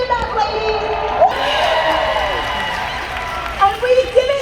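An audience at a sales-team recognition event bursts into loud cheering and applause that swells, holds for a couple of seconds, then fades, with voices speaking over it before and after.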